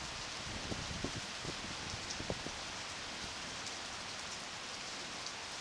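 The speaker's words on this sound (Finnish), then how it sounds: "Kohta loppuu sade." Steady rain falls continuously during a thunderstorm, with a dense hiss and scattered heavier drops pattering nearby on a surface.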